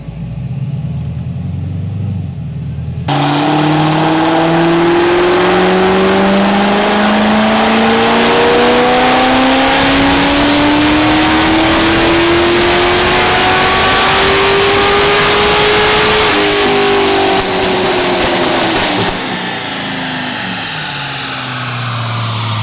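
A supercharged LS3 Corvette engine roars on a dyno, climbing steadily in pitch through a long, loud wide-open pull before easing off near the end, with no talking over it.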